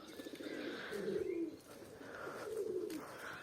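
Pigeons coo at a loft, a soft low burbling call rising and falling in two long phrases over a steady murmur of background chirps and twitters.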